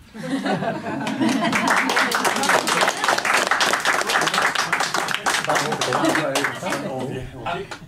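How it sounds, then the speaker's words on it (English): Guests at a youth workers' appreciation dinner applaud with sharp, close claps, mixed with laughter and chatter that runs under the clapping throughout. "we'll give you a big round of applause as you do that"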